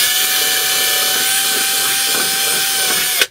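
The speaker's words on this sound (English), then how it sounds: "Let's try and drill it a little bit more." A power drill whines loudly and steadily up close for about three seconds, drilling a hole while fitting a mudguard extender on a motorcycle, then cuts off abruptly; no one speaks.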